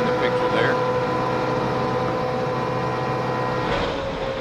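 NASCAR stock cars at the 2004 Aaron's 499 hold wide-open throttle, producing a continuous steady engine drone with unchanging pitch, heard at a distance under faint background noise.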